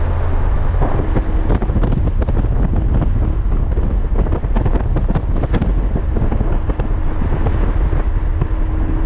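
Heavy wind buffeting a microphone, producing loud, uneven rumbling gusts that continue throughout without any talking.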